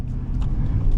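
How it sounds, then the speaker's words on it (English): A Ford F150 XLT pickup with a 5-liter V8 and 10-speed automatic gives a deep, steady low rumble, heard close and fairly loud with no clear rise in revs. "V8 that sings to you if you really wanted to"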